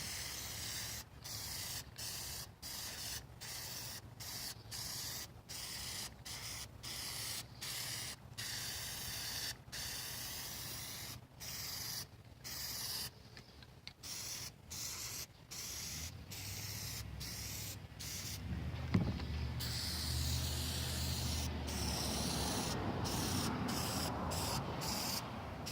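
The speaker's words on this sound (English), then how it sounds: "When you're spraying a blue foam like this, always hit it from multiple angles" A spray can applies Plasti Dip onto blue foam for a basic shield, in many short hissing bursts with brief gaps. The bursts end in a longer, steadier spray, close up and with no talking.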